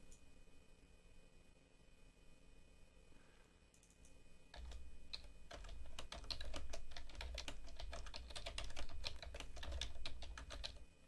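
Fingers type on a computer keyboard: after a quiet start comes a rapid, continuous run of close key clicks with uneven rhythm and no voices.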